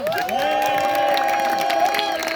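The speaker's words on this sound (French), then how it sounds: "on peut les applaudir une dernière fois bien fort" A comedy club audience cheers and claps at the end of a stand-up show, with sustained shouts and whoops over steady, dense clapping throughout.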